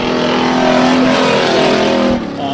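A stock car at a dirt speedway heat race, its engine revving high and hard, apparently with transmission trouble, roars loud and close as a steady, whining drone before briefly dropping off near the end.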